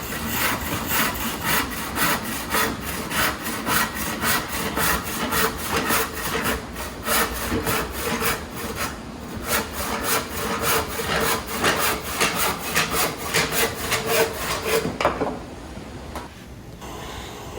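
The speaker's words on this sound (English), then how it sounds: "I'm just getting scrap 2x4s and cutting them to 18 inches" Steady back-and-forth strokes of a hand saw cutting scrap 2x4 boards, rhythmic and close, continuing for a long stretch before the final strokes and a pause.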